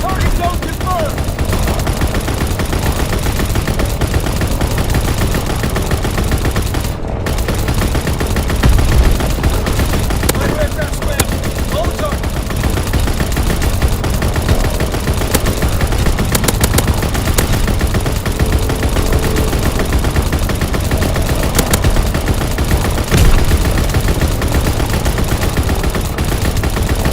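Sustained turret gunfire from an aerial killstreak in Call of Duty WWII on the Gibraltar map, a dense continuous roar of rapid shots and explosions lasting throughout, loud and unbroken.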